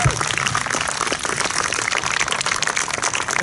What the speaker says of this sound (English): Let's give one more round of applause for Lonnie Allgood.